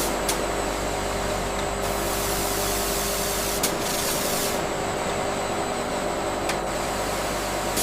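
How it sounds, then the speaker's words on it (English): A factory machine polishes floor tiles made from recycled shoes, producing a loud, steady hissing and whirring drone with constant mechanical hum and a few brief sharp clicks throughout, with no talking. "Every recycled tile is polished with precision to achieve a flawless surface."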